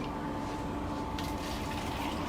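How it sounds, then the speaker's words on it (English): Tap water being poured out, a steady, close splashing gush with a faint tonal ring, continuous and loud for the whole short stretch. "And we can even pour some of that out to give our viewers a better view."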